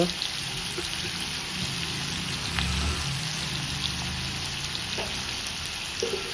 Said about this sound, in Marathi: कांदा चांगला भाजू द्यायचा आहे.